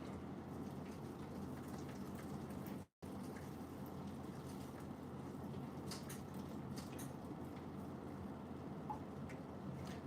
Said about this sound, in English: put in another set of hot water.